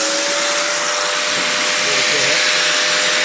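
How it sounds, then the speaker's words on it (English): An angle grinder runs steadily on the rusty bottom of a car door, a loud continuous high whine with a faint tonal hum and no breaks across the whole stretch. "Take your grinder, hold on around"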